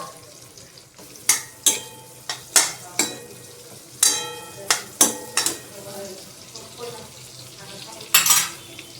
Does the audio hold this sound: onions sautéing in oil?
yes